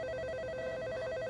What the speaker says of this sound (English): Oh my goodness, that's my phone.